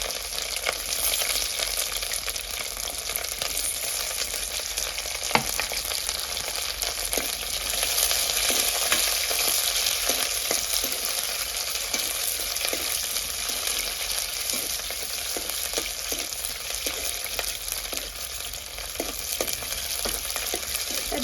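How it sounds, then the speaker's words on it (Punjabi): Capsicum frying lightly for malai chilli paneer on a chulha gives a steady, close sizzle that runs throughout, with occasional sharp spoon clicks as the pieces are turned. "ਸ਼ਿਮਲਾ ਮਿਰਚ ਫਰਾਈ ਇਹਨੂੰ ਵੀ ਆਪਾਂ ਹਲਕੀ ਹਲਕੀ ਫਰਾਈ ਕਰ ਲਵਾਂਗੇ"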